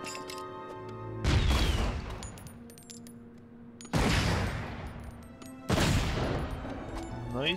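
Cannon in Lego Indiana Jones 2 booming three times at irregular intervals, each blast a loud broadband burst that decays into rumbling debris, with game music ringing underneath.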